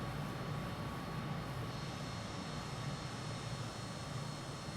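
A MiG-21bis jet engine in Microsoft Flight Simulator 2020, a steady droning roar with a faint whine running through it, even and unbroken throughout, no talk.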